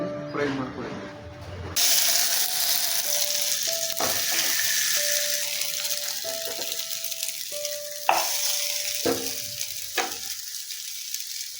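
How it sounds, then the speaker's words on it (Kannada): Marinated chicken kebab pieces fry in a non-stick pan with a steady broadband sizzle, punctuated by a few clinks and scrapes and intermittent beeping tones, with no voices. "ಆಮೇಲೆ ಎತ್ತಿ ನಾನ್ ಸ್ಟಿಕ್ ಪ್ಯಾನಲ್ಲಿ ಫ್ರೈ ಮಾಡ್ಕೊಳ್ಳಿ"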